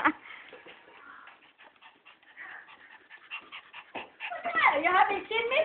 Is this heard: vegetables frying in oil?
no